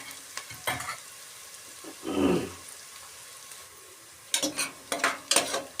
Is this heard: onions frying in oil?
yes